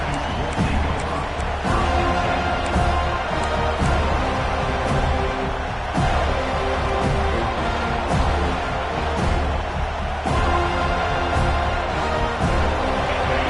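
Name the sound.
football stadium crowd noise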